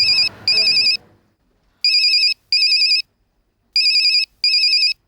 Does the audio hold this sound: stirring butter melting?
no